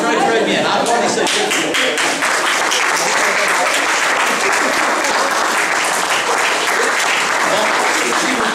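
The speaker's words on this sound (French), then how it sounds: "Applaudissez." A choir group claps in loud, sustained applause from start to finish, dense and close, with some voices mixed in.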